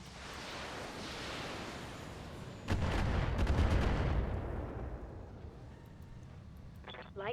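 In the mech combat video game Battletech, weapons open fire on a target with a heavy booming volley followed by rumbling impacts that fade out, with a brief burst of radio-style chatter near the end.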